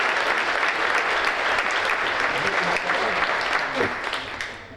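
Guests at a chamber of commerce gala dinner applaud together in a sustained, full round of clapping that thins and fades near the end.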